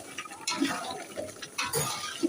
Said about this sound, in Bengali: মাংসটাকে অনেক ভালো করে কষানো হচ্ছে